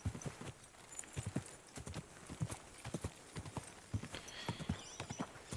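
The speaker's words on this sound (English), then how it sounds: "Let's get our horse." Horse hooves clip-clop steadily at a walking pace in the medieval role-playing game Kingdom Come: Deliverance 2, close and fairly quiet, with a brief whinny and no talk over it.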